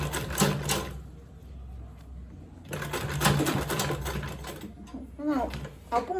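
Sewing machine back-stitching while making a lined, zippered makeup bag, with rapid mechanical stitching bursts separated by pauses and someone talking throughout.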